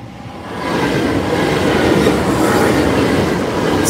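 A train rolls past the Cromwell Lane level crossing, loud and close, its rumbling wheels and clatter rising after the first half second and holding steady with no talk.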